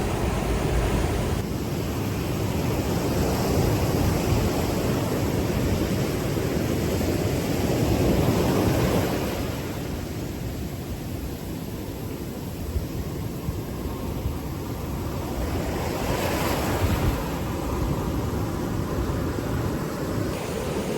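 Ocean surf rolling onto a beach in Ghana, a steady broad wash of breaking waves heard up close with wind, continuous with no talk.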